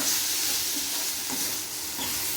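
Bitter gourd sautés in a pan for the poriyal, giving an even, close sizzle with faint stirring scrapes and no talking.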